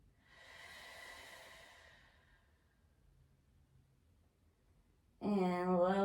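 Slow, soft breaths during a yoga bridge pose, one long exhale fading out over a couple of seconds before a voice begins speaking close by.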